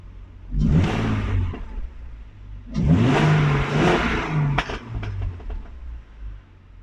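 A car engine with a cone air filter revs up twice with a rushing intake roar, rising in pitch each time, followed by lighter throttle blips as it settles.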